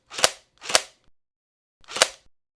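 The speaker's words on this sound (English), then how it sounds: "Each time I pull the trigger, you hear a shot." A haptic VR gun stock for Quest 3, in single shot mode, fires three sharp clicking shots with a thump, two close together and one after a pause, heard up close.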